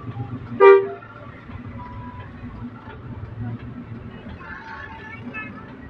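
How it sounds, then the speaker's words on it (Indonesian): A train rumbles steadily nearby at Kebumen, Central Java, Indonesia, with a short horn toot near the start, the low hum continuing throughout. "Weh, ini kereta api apa nih?"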